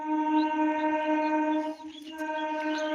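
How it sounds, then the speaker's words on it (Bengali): A Sealdah–Lalgola passenger train approaches on the Nashipur line, sounding a long, loud, steady multi-tone horn blast with a short break partway through, no talk audible. "আর সামনে ট্রেন আছে"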